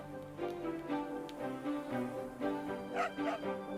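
A cartoon dog yipping and barking in short repeated bursts over a background of music or other sound, moderately loud, with no clear talking.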